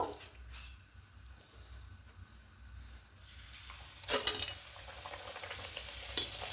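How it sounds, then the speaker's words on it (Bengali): Heart-shaped luchi fry in hot oil in a wok with a steady, fairly quiet sizzle, broken by a couple of sharper crackling bursts as the dough puffs. "একটু উপর দিয়ে দেবো তেলে হবে দেখুন কত সুন্দর ফুলছে"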